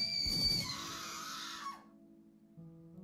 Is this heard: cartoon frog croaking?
no